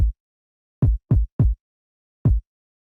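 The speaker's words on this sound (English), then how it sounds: "So our sub kick with our mid kick sample sound like this." Five deep, punchy kick drum hits, a sub kick layered with a mid kick sample, with a low sub thump and short tail, played in an uneven pattern with silence between.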